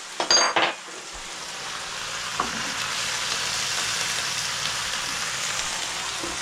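Spinach cooking down in a pan with a steady, loud sizzle, opening with a few sharp clinks of a utensil against the pan before the frying hiss settles in alone.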